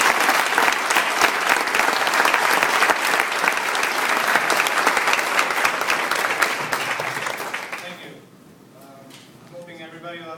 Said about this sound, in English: everyone please join me in welcoming Luke Phelps with a warm round of applause